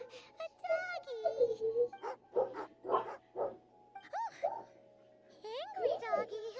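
Angry dog barking and whimpering in the video game Genshin Impact, several short yips and barks over a steady game background, with dialogue voices mixed in.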